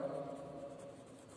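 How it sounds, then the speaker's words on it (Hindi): Chalk or marker writing on a board during a lecture on industrial law, a steady continuous scratching that runs the whole moment, fairly faint, with no talk over it. "यहाँ पे लिख देते हैं एक बार और"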